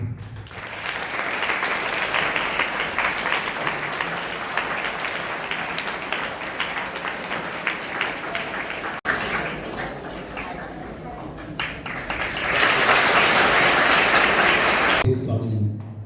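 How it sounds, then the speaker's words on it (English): Sustained audience applause at a felicitation ceremony during a spiritual gathering in India: dense, steady clapping from a large crowd for about sixteen seconds, swelling louder near the end before cutting off. "Let us give the big applause."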